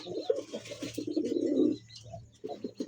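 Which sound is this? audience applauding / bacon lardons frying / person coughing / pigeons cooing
pigeons cooing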